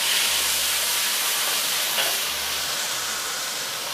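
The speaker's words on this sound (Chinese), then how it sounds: "豆瓣下锅。" Broad bean chili paste (doubanjiang) sizzles in a hot wok for a red broth base, a loud steady broadband hiss with a faint low hum beneath, close and continuous.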